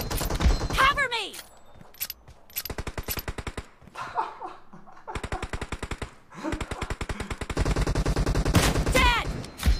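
Rapid automatic gunfire bursts in a PUBG PC team deathmatch, with repeated loud rattling volleys separated by short pauses and a voice calling out between shots.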